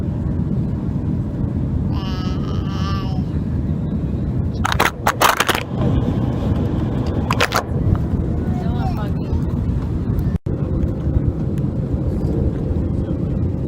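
Steady, loud low-pitched cabin drone of a passenger airplane descending toward landing after a trip to Iceland, running continuously with a few brief rustles and thumps while people talk over it.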